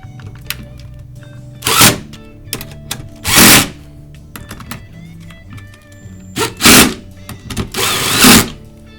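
A power driver tightens the mounting bracket on a Bird Gard Pro bird-repeller solar panel, with four loud, short whirring bursts separated by quieter clicks and handling noise, and no talking.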